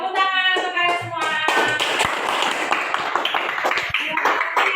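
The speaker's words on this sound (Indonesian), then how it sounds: "Tepuk tangan untuk kalian semua." A classroom group claps together after a short stretch of a voice, the applause a dense patter of hand claps that fills most of the clip and thins out toward the end.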